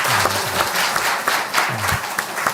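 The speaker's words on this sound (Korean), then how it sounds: "우리 귀한 렘넌트를 주신 하나님께 영광의 박수를 한번 드리겠습니다." A church congregation applauds during a Sunday worship service, a dense, steady wash of many hands clapping at moderate volume for a few seconds.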